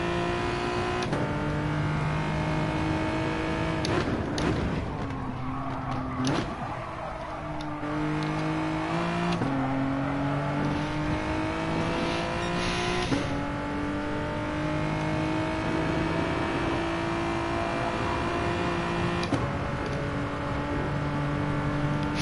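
Engine of a GR4 Genesis race car in a sim racing game at the Nürburgring GP circuit, revving loudly and continuously with pitch rising and dropping through gear changes and braking, with no talk over it.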